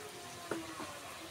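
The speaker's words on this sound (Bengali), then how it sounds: "এই যে এগুলো ভাজছি আমি, উপরের গুলা সবগুলো আমি ভাজছি।" Oil pitha, Bengali fried cakes, frying in a pan give a faint, steady sizzle, broken by a single light clink partway through.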